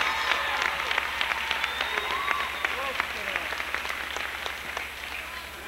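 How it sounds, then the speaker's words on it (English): A 1985 high school women's basketball crowd, Lyman Hall, applauds players as they leave the game one by one: sustained, dense clapping filling the gym, with crowd voices blended underneath. "Here they come one by one. We'll let the applause take over."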